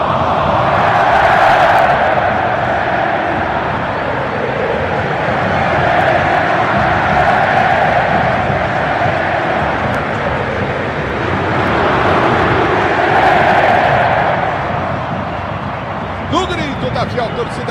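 Corinthians fans fill Neo Química Arena with a loud, constant crowd roar that swells and surges at a few moments, dense and unbroken throughout.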